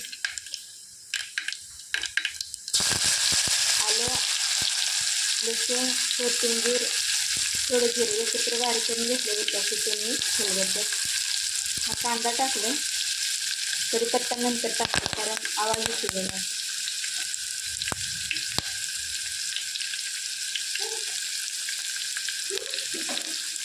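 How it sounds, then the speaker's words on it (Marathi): Mustard and cumin seeds hit hot oil and splutter, a loud close sizzle with dense crackling pops that lasts throughout, while someone talks over it at intervals. "मोहरी टाकली बरं का चांगली लागली उडी मारायला"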